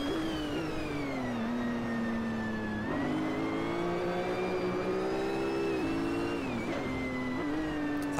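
Mercedes-Benz CLK GTR race car engine in the Assetto Corsa racing game, a steady loud in-car drone with rising and falling revs and brief dips at gear changes, continuous throughout with no talk.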